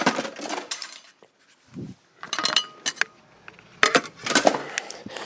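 A metal putty knife is set down on a tool shelf in a home craft area, giving a few light, close metallic clinks and clatters separated by short pauses.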